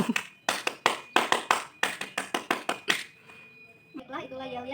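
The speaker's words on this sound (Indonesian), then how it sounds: "Dua kali tepuk pramuka." Scouts perform a Pramuka clap routine, a rapid series of about a dozen sharp, loud hand claps in an uneven rhythm, followed by a spoken voice near the end.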